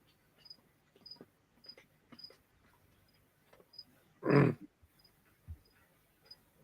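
Crickets chirp in a tarantula keeper's room, giving faint, regular high chirps spaced about half a second apart, with soft low bumps and one loud, brief noise burst partway through.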